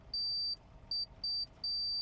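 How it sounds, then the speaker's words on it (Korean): A fish finder alarm aboard a search boat at sea off Tsushima beeps four times in a quick, uneven series of sharp, high-pitched electronic tones, clear and close, with faint background noise. "목표 지점에 도착했다는 경보음이 울리자"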